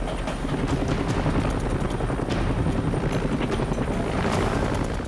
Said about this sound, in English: Lifting the patient to the helicopter requires a high hover, an essential but risky maneuver.